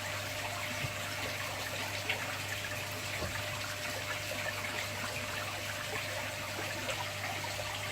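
Water circulating through a shrimp tank's Matten sponge filter gives a steady, continuous trickling and pumping wash, even and unbroken with a low hum beneath.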